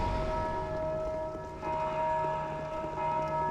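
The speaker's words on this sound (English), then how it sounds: "every time the bells ring, it just scares the shit out of me." Church bells ringing in the video game Dark Souls II, a steady sustained chime with ringing overtones that continues throughout at moderate level over a low background drone.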